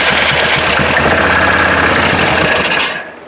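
A 1998 Yamaha Grizzly 600 4x4 ATV engine runs loud and close with a steady, rough idle rhythm for about three seconds before cutting off abruptly.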